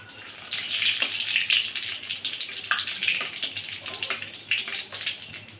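Whole cumin seeds and bay leaf hiss and sizzle in hot oil, a steady bright crackle with small pops, close and alone without talk.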